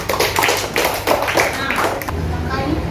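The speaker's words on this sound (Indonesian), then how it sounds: "tepuk tangan untuk kelompok mangga" Applause for a student group during a classroom presentation at an elementary school, a burst of clapping mixed with children's voices and chatter, fading toward the end.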